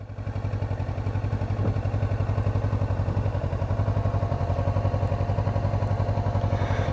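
A 650 motorcycle engine runs steadily while riding, a loud, continuous low throbbing drone held close to the microphone for the whole stretch, with no talk over it.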